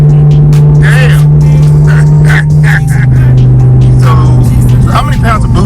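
A 1500 whp car with Boostlogic turbos, running about 16 to 17 pounds of boost, roars through a pull on a dyno. Its loud, sustained engine drone rises steadily throughout while voices talk over it.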